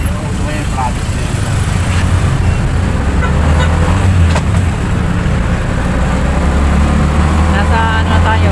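Dense road traffic near a market gate, with a loud constant rumble of engines and a few car horn toots, while people talk over the noise.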